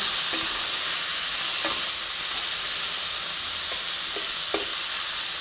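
Drumstick stalks frying in a pan sizzle constantly while a utensil stirs them, adding a few scattered scraping knocks over the steady hiss.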